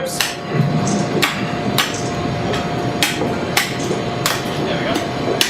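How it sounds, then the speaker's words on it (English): Cleaver chopping pork down along the ribs in a butchery, a series of sharp, fairly close whacks spaced about a second apart over low background noise. "now I just have to cleave it down along the ribs"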